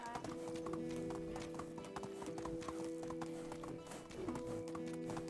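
A horse gallops in the medieval survival game Medieval Dynasty, its steady clip-clop hoofbeats running continuously and fairly close under a light background of game music.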